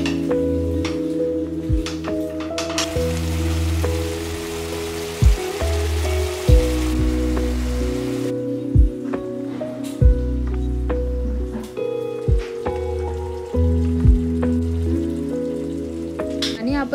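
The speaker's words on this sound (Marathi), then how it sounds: "चला मग आता याला छान मिक्स करून घेऊया आणि पनीर सॉफ्ट होईपर्यंत त्याला छान कुक करून घेऊ." Capsicum, onion and paneer frying in a pan while stirred, a steady crackling sizzle with occasional clinks and scrapes of a spoon against the pan, close and continuous under a faint background hum.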